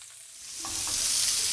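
Pork tenderloin sears in a hot pan, a steady close sizzle that swells slightly louder over a brief moment, with no voices.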